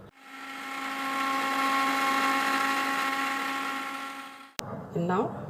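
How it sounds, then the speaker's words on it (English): A kitchen blender grinds a buttermilk chaas mixture of water and masala in a steady, loud whir for about four and a half seconds, then cuts off abruptly, and a voice follows. "I'm going to blend it once more so that everything comes together."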